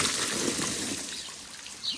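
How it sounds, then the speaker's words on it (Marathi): Water runs and sprays steadily while a car is washed, a continuous hissing wash of water that stays fairly quiet and even throughout. "मित्रांनो खूपच पाणी जात आहे"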